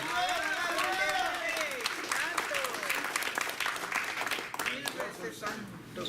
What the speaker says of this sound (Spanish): Aplauso a Cristo por eso